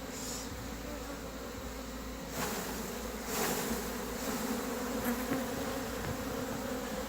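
A dense, steady buzz of many honey bees at a hive fills the air, loud and continuous, with a few individual bees droning closer now and then.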